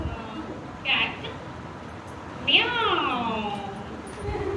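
A house cat meows twice, the second cry longer and louder, sliding down in pitch, close by over a low room hum.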